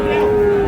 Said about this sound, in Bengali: দেখি আরও বেশ কিছু গরু আছে পাশে